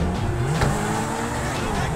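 A car engine in GTA 5 hums and revs under someone talking, with a steady motor drone and small rises in pitch across the short stretch.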